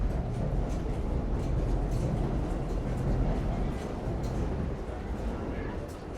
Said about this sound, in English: It's a very crowded station. You have a lot of traffic coming in here for Manhattan bound and Main Street bound trains.